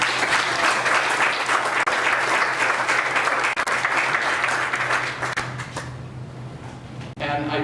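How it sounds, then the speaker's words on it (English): An audience at a county board meeting gives staff members a full round of applause: dense, steady clapping for about six seconds that then tapers off and fades out. "I'd like to give them a round of applause for all of them."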